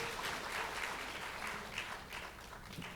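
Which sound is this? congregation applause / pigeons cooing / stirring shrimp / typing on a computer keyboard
congregation applause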